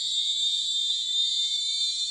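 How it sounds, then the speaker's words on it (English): A triple-note electronic buzzer sounds a high, shrill tone continuously and loudly, steady in pitch throughout. "now you can listen to the triple note, 3 note sound"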